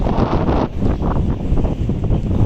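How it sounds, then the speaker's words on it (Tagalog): Strong island wind roars steadily into the microphone, a dense, blustery rumble that buffets throughout with no voices. "super windy"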